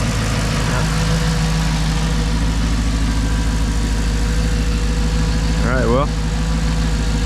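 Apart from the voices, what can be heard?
manual Mercedes C55 AMG engine idling, warming up in cold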